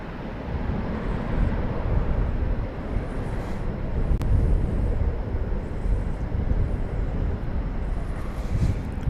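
SkyWest airliner landing at DFW Airport, a continuous wide rumbling roar of engines and rushing air, steady and fairly loud, with faint wind buffeting and no talk.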